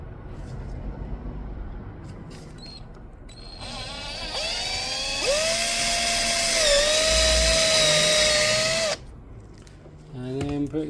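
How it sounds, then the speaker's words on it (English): Power drill boring a small hole into an old plastic car trim clip clamped in a vise; a steady whine for about five seconds, rising in pitch, then stopping, with someone talking briefly before and after. "So what I've been doing is I've just been putting them in the vise and drilling a little hole."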